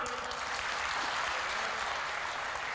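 An audience at a Hindi comic poetry show claps on request, an even wash of many hands heard from a little distance, sustained without a break and fairly soft.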